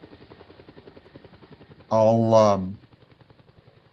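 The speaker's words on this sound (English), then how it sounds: "We're going to go for a helicopter ride today until someone shows up." A helicopter in a video game, heard as a steady rapid rotor chop throughout, briefly covered by a loud voiced burst in the middle.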